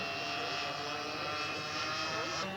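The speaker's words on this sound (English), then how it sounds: "He's got 4 OS61s in this little jewel. Turning 3-bladed props." A scale model aircraft with four OS61 glow engines turning three-bladed props drones loudly and steadily at close range, a dense layered buzz with a faint voice underneath.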